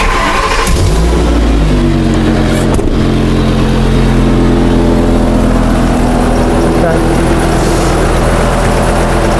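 A Ford tow truck's engine starts and revs, loud and close throughout, a steady mid-pitched roar with a sharp catch near the start, while a voice speaks briefly over it.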